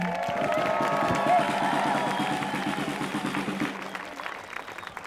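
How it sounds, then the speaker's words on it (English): Crowd applause at an outdoor migrant justice protest rally as the final speaker is brought to the mic, clapping with a few cheers under a low hum, gradually thinning out and fading over several seconds. "Give a round of applause for John."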